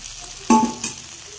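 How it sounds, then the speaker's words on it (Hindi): Chicken tikka pieces cooking in a pan with a spoonful of oil give a quiet sizzle, broken by one sharp scrape and a second softer one as they are stirred. "इसी तरह हमने 1 मिनट तक इसे और फ्राई करना है"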